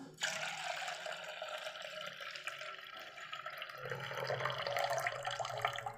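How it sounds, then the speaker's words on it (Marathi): Sprouted moth beans rinsed under running water, a continuous close splashing flow like a tap filling a vessel, steady throughout with a slight rise in intensity toward the end. "दोन पाण्याने ह्याला आणखी मी धुवून घेते"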